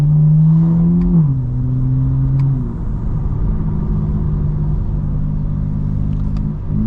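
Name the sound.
2025 BMW M4 CS exhaust with resonated mid pipe, catless downpipes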